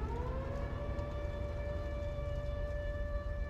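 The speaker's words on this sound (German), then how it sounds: "Wir hörten die Sirenen und machten uns alle auf zum Bunker." Air raid sirens wail in the Resistance 3 game trailer, a steady sustained siren tone with a faint rising onset, loud and continuous throughout with no talk.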